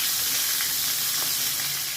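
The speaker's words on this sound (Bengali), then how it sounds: "আমি মাছটাকে ভালো করে ভেজে নেবো" Tilapia fish frying in a pan over low to medium heat, a dense, loud, continuous sizzle of hot oil with no voices.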